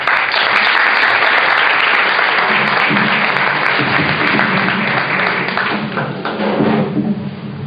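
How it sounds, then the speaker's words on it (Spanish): Audience at an awards ceremony for women honored for world peace applauding a recipient, a loud, sustained wash of clapping that fades slightly near the end, with occasional thumps mixed in. "fuerte el aplauso para Enriqueta de la Encarnación Blas"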